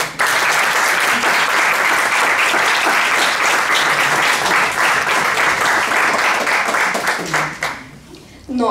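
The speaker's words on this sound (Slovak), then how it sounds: "Za veľkého potlesku prosím privítať prvého hostia." Loud, sustained applause from a school farewell-party audience in Bardejov welcoming a guest, dense clapping that holds steady for about seven seconds before fading out, with faint voices mixed in.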